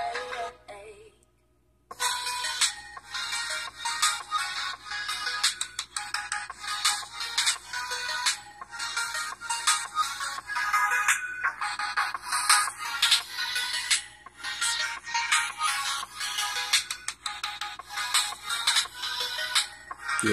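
A ringtone melody plays loudly through the speaker of a ZTE Zmax Pro phone with its volume booster enabled, starting after a brief silence and continuing in a steady, repeating pattern with no talking.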